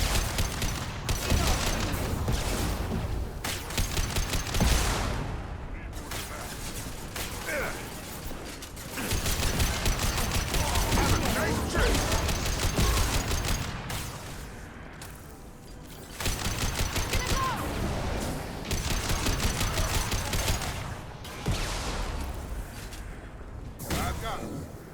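Gunfire in the sci-fi shooter Mass Effect 2: repeated bursts of shots and mechanical weapon clatter, loud and close, coming in waves with short lulls, mixed with game effects and occasional voices.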